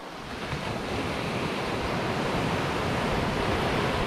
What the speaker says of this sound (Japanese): 波打ち際に近づいてきました。